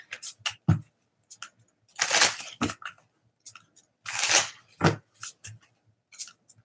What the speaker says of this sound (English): I'm going to shuffle these in for just a minute